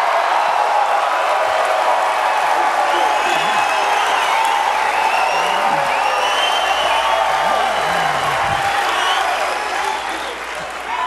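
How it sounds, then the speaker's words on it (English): Enthusiastic crowd at a Ron Paul political rally in Minneapolis, Minnesota, applauding and cheering steadily throughout, with scattered whoops rising above the dense clapping; loud and sustained, tapering slightly near the end. "this has to be about the most enthusiastic crowd"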